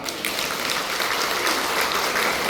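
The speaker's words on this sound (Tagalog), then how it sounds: "Pwede mo palakpak?" A church congregation at a Sunday worship and healing service claps together, a brief, even burst of loud applause filling the hall.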